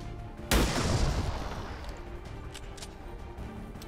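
A single loud, close gunshot from XCOM 2 with a sharp crack and a long decaying rumble afterward, followed by quieter ambient game sounds.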